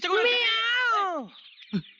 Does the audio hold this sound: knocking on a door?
no